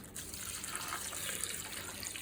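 Hot tap water runs steadily into a pot while making chicken bone broth, a continuous close splashing gush with no talk.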